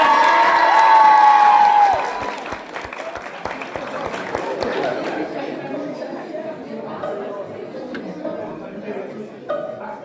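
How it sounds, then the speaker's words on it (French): Audience applause and cheering at a cosplay contest at Bakanim' 2025, a dense crowd roar with whoops that swells loudly and then settles into steady clapping and chatter under music. "applaudit s'il vous plaît, on l'encourage"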